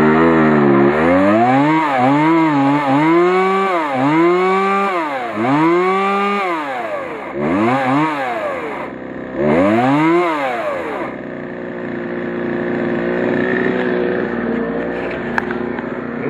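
A small chainsaw engine running rough on bad gas, revving up and down in repeated surging bursts that rise and fall unevenly, then settling to a lumpy idle, loud and close with no talking.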